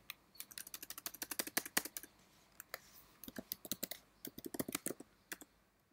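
Quick bursts of typing on a computer keyboard at a terminal, close and crisp, with rapid clustered keystrokes and a short pause midway, no talking.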